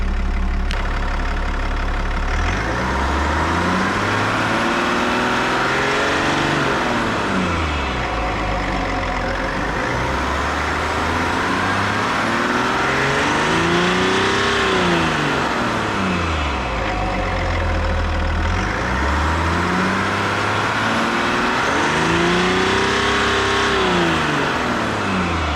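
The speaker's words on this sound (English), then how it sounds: "I'm gonna show you a little noise of revving it up and hearing what it sounds like then." A 2021 Chevy Duramax 1500 3.0 diesel fitted with an S&B cold air intake revs repeatedly, each rise and fall of engine pitch sweeping up and back down in a steady cycle, loud and close with no talking.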